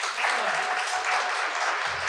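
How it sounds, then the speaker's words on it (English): A lecture audience at a university president's lecture series gives a round of applause for a guest speaker, a continuous, even burst of many hands clapping, fairly loud and close with no talk over it. "Another round of applause"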